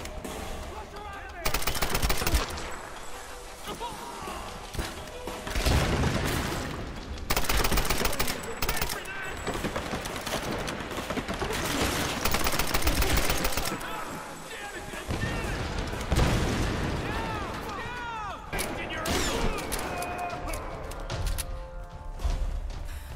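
Shotgun blasts and other gunfire from the Tomb Raider video game come in loud bursts with pauses between them, mixed with game effects while a player talks over the action.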